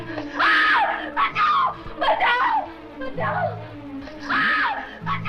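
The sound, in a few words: woman screaming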